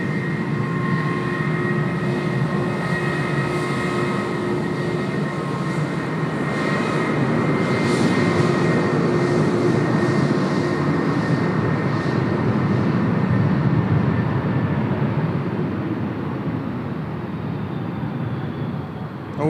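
An airliner in One World livery, arriving from Bangalore, touches down on runway 16 right at Sydney Airport. A continuous, fairly loud engine roar with a whining tone swells gently and then slowly fades, with no voices.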